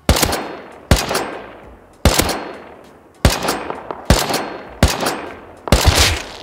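Heavy gunshots in the video game Rust crack out in a burst of about eight loud, separate blasts, each trailing off with a ringing echo before the next shot.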